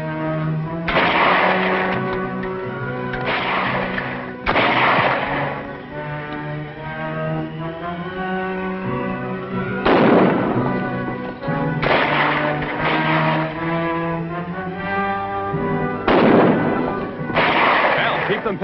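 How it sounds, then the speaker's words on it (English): Gunfire sound effects in an old radio drama set in the Yukon crack out in repeated sharp bursts, loud and close, between and under dramatic dialogue and music. "That's gunfire."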